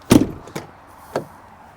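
A heavy back door of a 2005 Ford Excursion Limited truck thuds, followed by two softer knocks of latches or panels, close by with quiet between them.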